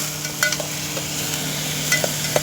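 Garlic and onion tempering sizzles steadily in a hot pan, a continuous close frying hiss broken by a few light stirring scrapes and clicks, with no talking.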